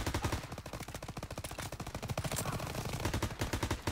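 Rapid automatic gunfire from Call of Duty WWII game combat, loud and continuous bursts of close shots with rhythmic reports throughout, no talk over it.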